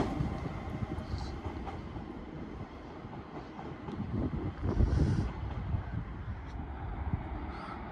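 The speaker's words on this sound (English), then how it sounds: "here comes the Midland Pullman from Cardiff Central to Carlisle" A Midland Pullman HST passenger train running from Cardiff Central to Carlisle rumbles through Wigan North Western station, a steady low roar that swells near the middle, with some wind buffeting the microphone.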